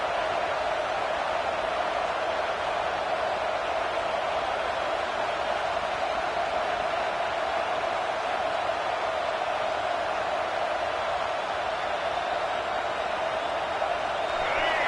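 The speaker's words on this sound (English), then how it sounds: "This crowd bringing the energy and noise early." Steady, dense roar of a football stadium crowd at a UCF versus Penn State game, a continuous wash of massed voices and cheering held at an even level throughout.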